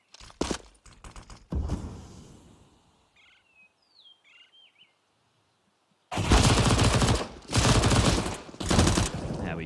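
Rapid SMG bursts in a Counter-Strike esports match at IEM Katowice 2023, loud crackling volleys at the start, a quiet lull with synthetic bird chirps, then dense sustained automatic fire returning at close range.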